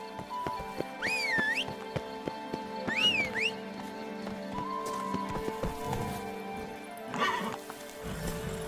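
Roach, Geralt's horse in The Witcher 3, whinnies twice in quick rising neighs, with hooves clopping and game music underneath, followed by a softer snort near the end.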